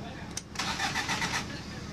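A Subaru EA82 turbo engine in a GL-10 wagon cranks briefly on a starter button and catches, settling into a steady close running note.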